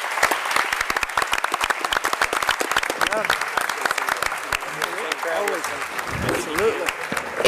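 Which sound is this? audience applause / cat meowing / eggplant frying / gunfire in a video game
audience applause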